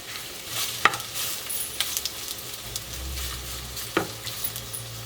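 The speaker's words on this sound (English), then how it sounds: "Now we're going to saute that until soft." One large thinly sliced red onion sautéing in olive oil for a Berber lamb tagine, a quiet steady sizzle with occasional clicks and scrapes of stirring against the pan, close up, no talk, a low hum underneath.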